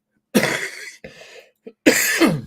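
Two loud, harsh coughs close to the mic, separated by a brief quieter throat sound, with no talking.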